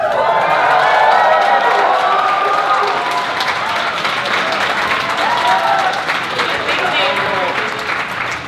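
A big convention crowd at BronyCon breaks into loud, sustained applause and cheering, with whoops and shouted voices riding over continuous clapping that stays strong throughout.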